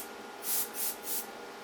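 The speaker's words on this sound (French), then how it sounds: "Reprenons notre bombe dépoussiérante et passons-la un peu partout à l'intérieur." Three quick bursts of a compressed air duster spray inside an opened Early 2008 iMac, close and loud, each puff a sharp hiss with short quiet gaps between, no voices.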